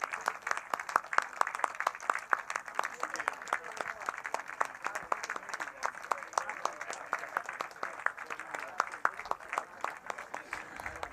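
Audience applause at the opening ceremony of the 2026 boat show, a steady dense clapping across the whole stretch, with voices faintly mixed in beneath it.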